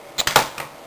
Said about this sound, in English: I have to use the keyboard instead.